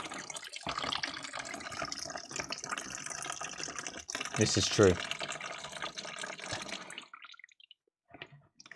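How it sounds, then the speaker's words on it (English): A PC water-cooling loop's pump pushes water through the system, giving a continuous gurgling, sloshing flow beneath people talking. It swells briefly, then drops away to near quiet at the end. "because obviously it pumps the water around."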